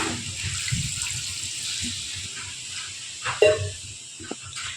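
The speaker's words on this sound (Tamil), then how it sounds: "இப்போ இதோட நம்ம தேவையான அளவு தண்ணி ஊற்றிக்கலாம்" Water hisses and splashes steadily into a cooking pot for oats sambar rice, fairly close, with a couple of small clinks near the end.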